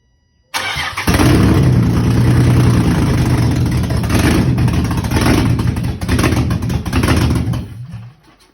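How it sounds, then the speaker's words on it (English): Nissan G35 fitted with a swapped VHR engine cranks and catches abruptly, then settles into a loud, steady, rough idle with slight surges before fading near the end, no talk. "I think this thing's ready to finally run, so I'm gonna grab a battery and see if it starts up."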